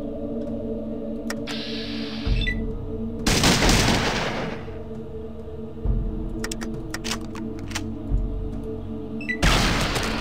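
Gunfire from combat in the Fallout 2 video game, with several sharp shots and bursts separated by quieter stretches and clicking.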